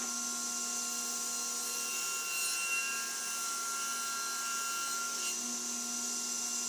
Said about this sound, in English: we're going to set our saw fence at 3/4 of an inch, and we're going to nibble off that little corner